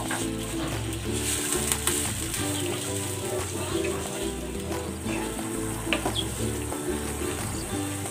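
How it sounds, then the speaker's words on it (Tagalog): Steady bubbling and sizzling of soup boiling in a cooking pan, continuous and close, with faint clinks over it. "Ayan, kumukulo na."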